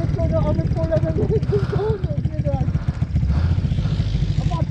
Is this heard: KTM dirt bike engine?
yes